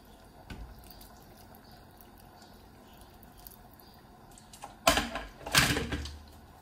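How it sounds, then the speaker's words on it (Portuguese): Water is poured into a tuna and potato stew: a quiet kitchen background, then two brief close splashing pours near the end. "Vou juntar mais um pouco de água."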